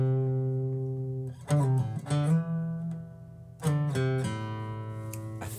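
Guitar lead lick from a song, with pull-offs and slides: a slow phrase of single plucked notes in two short clusters separated by a ringing sustained tone.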